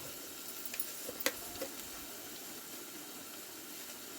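Ground turmeric and coriander sizzle in hot oil for a fish curry, a faint, continuous frying hiss with a few sharp clicks and scrapes near the start.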